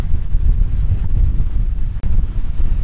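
Strong wind roars steadily against the microphone on a sailboat moving at good speed at sea near Tenerife, a loud low buffeting rumble with a short dip near the two-second mark.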